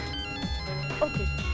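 A mobile phone ringtone plays in a Bollywood action film scene: short repeating electronic tones over a busy background of low sounds.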